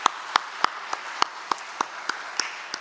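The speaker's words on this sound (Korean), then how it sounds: "오늘은 먼저 성령님께 감사의 박수 해드리겠습니다." A church congregation claps together in a steady unison beat, about ten crisp claps spaced evenly, each standing out clearly above a quiet room.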